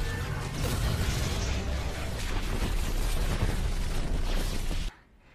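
A superweapon fires and explodes in a science-fiction battle: a dense, roaring blast of rumbling and crackling that holds loud for about five seconds, then cuts off abruptly into quiet.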